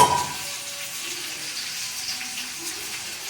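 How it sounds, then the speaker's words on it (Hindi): Onion, green chilli, cumin and asafoetida fry in hot oil with a continuous, even sizzling hiss at moderate loudness. No voices are heard. "उसके बाद तेल डालकर उसमें प्याज, हरी मिर्च, जीरा, हींग डाल के इनको फ्राई कर लेते हैं"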